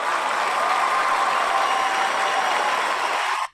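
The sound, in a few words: applause sound effect from an applause board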